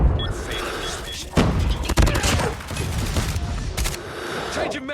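Dense automatic gunfire from Call of Duty Mobile on a small map, loud rapid bursts with heavy thumps running nearly nonstop across the clip, layered with game effects and radio-style callouts.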